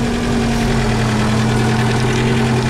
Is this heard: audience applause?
no